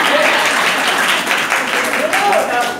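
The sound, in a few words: audience applause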